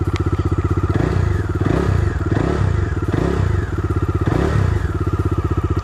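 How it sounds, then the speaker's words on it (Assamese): The exhaust of a 2022 Bajaj Dominar 250 BS6 single-cylinder motorcycle chugs loudly and steadily at close range, with several brief rises in revs. "এক্সজষ্ট নটটো শুনাই আছোঁ।"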